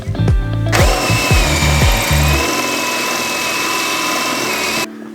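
A power drill working in a skoolie bus conversion where PEX water lines are being run. The drill is loud and close, with a few stuttering bursts that settle into a steady high whine, then stop abruptly.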